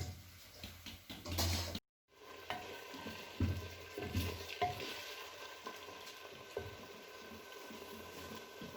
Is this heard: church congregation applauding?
no